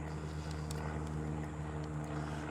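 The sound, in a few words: single-engine Cessna airplane flying overhead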